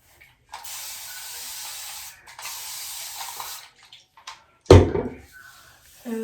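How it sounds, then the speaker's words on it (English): A spray bottle hisses water onto hair in two long squirts, close up, followed by a sharp clatter and a few soft rustling sounds. "I'm just gonna spray it with some water."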